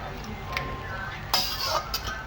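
Biryani with green chillies is stirred in a pot, a metal utensil clinking and scraping against it a few times over a low background hum.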